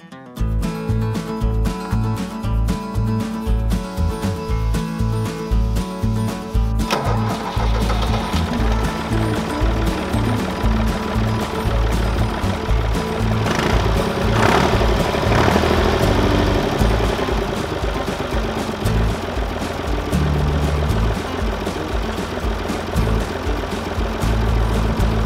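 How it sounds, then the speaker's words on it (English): A Fiat 480-8 DT tractor engine cranks and catches, then settles into a loud, steady idle with a low rumbling throb that continues to the end. "let's try the tractor."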